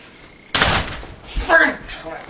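A door slams with a sudden sharp bang, followed by a shouting voice close by.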